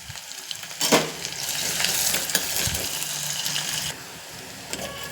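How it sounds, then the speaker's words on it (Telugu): Onions frying in a pan for mutton curry, a steady close sizzle with bursts of stirring and scraping, loud through the middle and easing toward the end, no voices. "ఆనియన్ అంటే వేసి కొంచెం బాగా కలిపి ఇది వేగిన తర్వాత"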